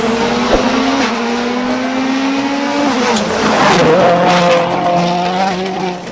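A toy race car plays a loud electronic sound effect of an engine roaring and shifting pitch, with a tire squeal and skid sweep partway through, running steadily for about six seconds with no talking.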